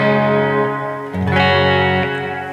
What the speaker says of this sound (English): preset B, and that's the hall reverb.